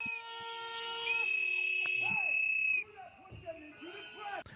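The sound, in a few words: loud high-pitched whistles blowing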